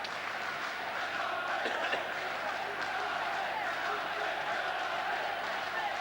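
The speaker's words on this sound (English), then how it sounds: "The Old Trafford crowd trying to get behind their team" Old Trafford football crowd at the 1991 European Super Cup, Manchester United against Red Star Belgrade, roaring steadily to get behind the home side, a dense continuous wash of voices and chants with no break across the stretch.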